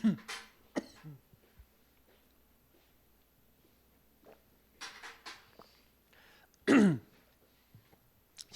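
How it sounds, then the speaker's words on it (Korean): Several short, sharp coughs from dust, one at the start and a louder burst near the end, separated by quiet stretches in an indoor church setting. "지금 이건 먼지 기침이에요. 코로나 기침이 아니라."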